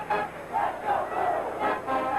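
A huge college football stadium crowd of over a hundred thousand at a 1988 Michigan home game roars in rising, rhythmic chant waves, a massed distant-sounding din that swells and falls.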